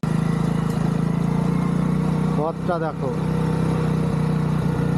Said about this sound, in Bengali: গাড়ি গিয়ারটা পাল্টাতে হবে।